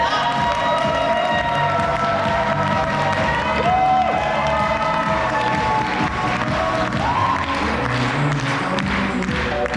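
A seminar crowd in Cheonan cheers and applauds in welcome for a company president, with continuous loud clapping and shouting over tonal background music for the whole stretch.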